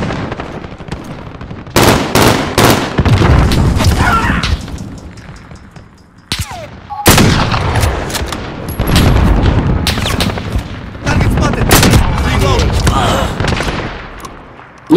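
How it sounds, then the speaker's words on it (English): Rapid automatic gunfire in Call of Duty: Modern Warfare, loud repeated bursts with short pauses between volleys and occasional booming impacts, continuing across the whole stretch. "they're shooting at me"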